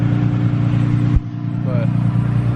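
A Lexus IS350 F Sport engine idling loudly with a steady deep rumble, heard from inside the car, with one sharp knock partway through.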